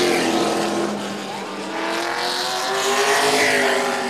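NASCAR late model race cars thunder around a short oval track, their loud engines rising and falling as they pass close by in a continuous roar.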